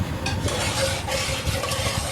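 Mutton pulao rice stirred in a pot, a steady close scraping and shuffling with a soft sizzle beneath, continuous for a couple of seconds with no talk.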